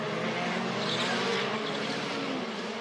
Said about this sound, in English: Hear the wastegate chattering on somebody's engine as they build up speed out of the chicane here.